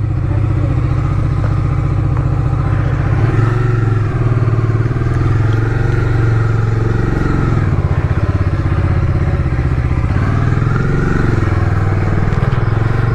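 A motorcycle rides on a road leaving Kolkata, its engine droning loud and steady throughout with wind and road rumble, no talk over it.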